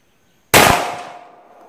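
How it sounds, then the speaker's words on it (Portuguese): A single sharp report from a Glock 17L pistol at a steel plate, a loud sudden crack that rings on with a metallic decay, alone after a moment of silence. "Utilizando uma pistola Glock 17L."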